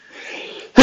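A single sharp sneeze bursts out at the very end, close and loud, after a soft breathy inhale that builds just before it.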